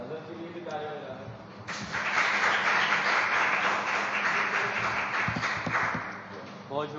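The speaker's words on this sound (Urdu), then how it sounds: "نظر کے لیے بھی تالیاں ہو جائیں." An audience at a school awards ceremony bursts into sustained applause at close range, with a voice talking over the clapping.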